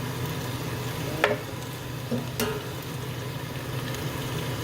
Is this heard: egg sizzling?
yes